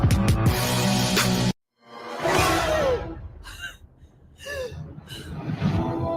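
A deep inhaled breath during a guided meditation on an Italian radio broadcast, a close airy intake that stands alone after a brief silence, followed by softer breathy exhales and faint swishes.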